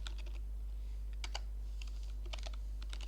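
Rapid bursts of computer keyboard typing, clustered keystrokes clattering in quick runs with short pauses, close and fairly quiet over a steady low hum, with no talking.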